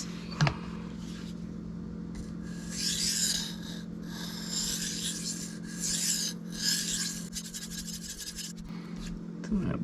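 A Cold Steel Mayhem knife blade being sharpened on a Sharpal 162N stone, a close steady rasping scrape that comes in repeated strokes, louder in bursts as the edge is drawn across the stone.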